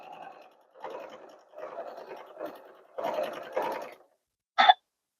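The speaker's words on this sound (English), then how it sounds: "Okay, and now just sew all the way around." A sewing machine stitches around a quilted pot holder made of several fabric layers, running in steady bursts of a few seconds with short pauses between, then ending with a single sharp click.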